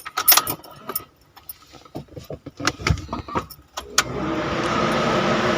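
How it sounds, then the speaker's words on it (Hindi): Keys jangle and a car door and controls clatter in a series of sharp clicks, then a car engine cranks and starts, settling into a steady idle close by. "ये सलफ मारते हैं। माशाल्लाह ये गाड़ी स्टार्ट हो चुकी है।"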